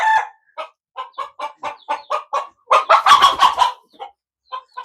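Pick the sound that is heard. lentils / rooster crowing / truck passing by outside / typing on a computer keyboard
rooster crowing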